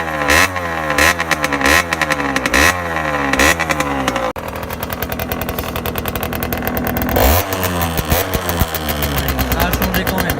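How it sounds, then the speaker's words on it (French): A motorcycle exhaust with freshly replaced rock wool packing sounds loud and close, the engine blipping through repeated throttle revs before settling into a steady, fast-pulsing run. "On se retrouve sur la moto quand il va être monté pour le bruit."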